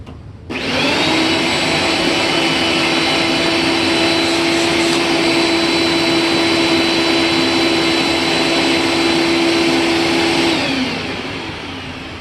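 A 1994 Dirt Devil Classic vacuum cleaner with its bag installed starts up and runs loud and steady with a high motor whine and rushing airflow, then winds down near the end.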